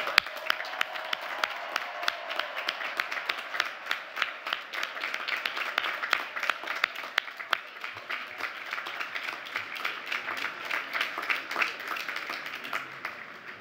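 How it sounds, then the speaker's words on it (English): A large crowd at a Bowdoin College commencement applauds the graduates in a sustained, even roar of clapping, with individual sharp claps popping out throughout. "How about one more round of applause to express pride in our newest Bowdoin graduates?"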